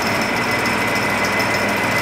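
Wood lathe spinning a bowl blank of stabilized resin and charcoal, a steady loud whine with broad hiss and a constant high tone running the whole time, no talk.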